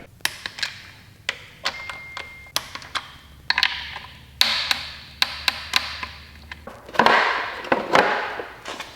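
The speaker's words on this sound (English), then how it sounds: "torque the cam gear bolts to 72 foot-pounds" A torque wrench tightens the cam gear bolts to 72 foot-pounds on a Subaru STI engine being built, with a steady series of sharp, close ratcheting clicks and taps in a quiet workshop.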